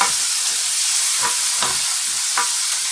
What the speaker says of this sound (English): And we'll just let that sizzle away.